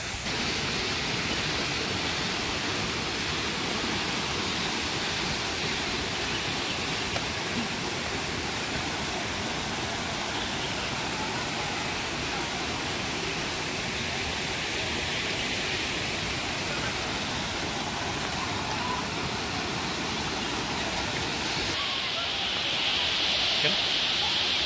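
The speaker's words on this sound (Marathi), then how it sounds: "समोरच वॉटरफॉल आहे." Bhivpuri waterfall near Karjat roars with a steady, dense broadband rush from close by, continuous and unchanging throughout.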